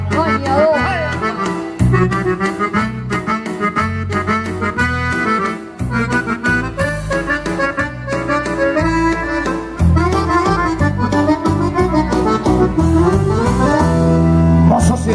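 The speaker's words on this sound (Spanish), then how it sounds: "para Mirta y para José, nos pidieron este tema, ritmo de ranchera que suena así" A live band plays a lively ranchera, with strummed guitars, bass and a bright melody over a steady bouncing rhythm, full and loud throughout.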